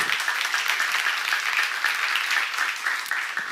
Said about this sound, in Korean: 믿는 사람만 박수하세요